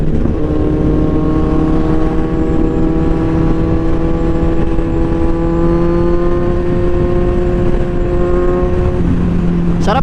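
Kawasaki Z1000R motorcycle with a dual-canister exhaust, engine running loud and close at a steady idle-like drone with a slight rise in pitch, then dropping back near the end.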